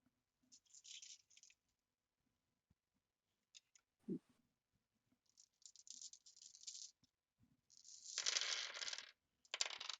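Dice rattle and clatter across a table during a tabletop role-playing session, in several separate bursts of close clicking with quiet gaps between them, the longest roll near the end.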